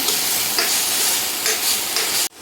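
Chana masala sizzles steadily in a pan, a loud, continuous broadband hiss with slight swells in intensity, ending abruptly near the close.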